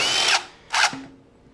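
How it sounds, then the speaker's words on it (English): An impact wrench spins bolts off the fan of a Kubota L2201 tractor in two short, loud whirring bursts up close, followed by a faint metallic ring as it winds down. "get your ratchet, or impact in my case. Take the 4 bolts off"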